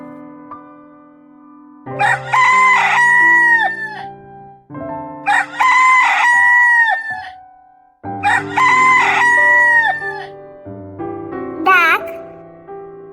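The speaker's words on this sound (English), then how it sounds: "Cockerel." A cockerel crows three times in long, loud calls, followed by a brief high squeak, all set over a bright children's song accompaniment.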